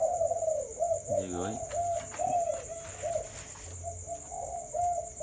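A Malaycon spotted dove coos repeatedly in a steady rhythmic series of soft mid-pitched notes, close to the microphone, while someone talks over it and insects chirp faintly in the background.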